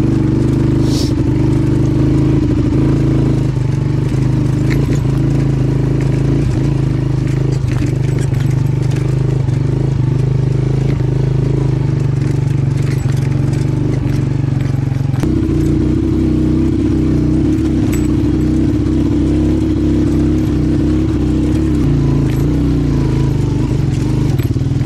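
A motorcycle carrying two riders labours up a steep mountain road, its engine a loud continuous drone that shifts in pitch partway through as the load changes, with rattling over rough ground.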